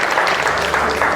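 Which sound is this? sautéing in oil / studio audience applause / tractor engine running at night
studio audience applause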